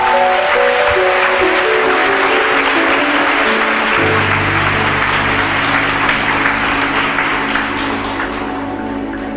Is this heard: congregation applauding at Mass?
yes